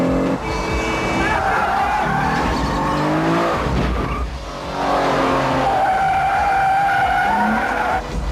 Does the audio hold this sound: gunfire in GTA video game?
no